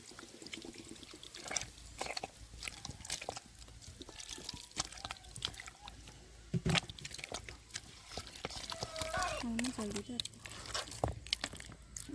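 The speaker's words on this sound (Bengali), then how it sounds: "আর অল্প একটু জল দিয়ে আমি শাঁসটা ভালো করে বের করে নেব।" Ripe wood apple pulp is squeezed and mashed by hand with a little water, making close, quiet wet squelches, squishes and drips in an uneven rhythm.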